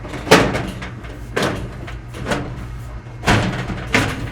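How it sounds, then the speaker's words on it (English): Metal drawer slides being fitted into a mobile tool cart, with several close knocks and sliding scrapes spaced out as the stiff parts are pushed into place. "So now we can take our drawer slides and pop those in."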